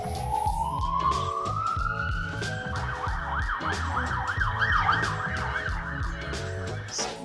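Ambulance siren passing outside, a rising wail that turns into a fast warbling yelp over steady traffic and engine rumble, moderately loud from a distance with no talking.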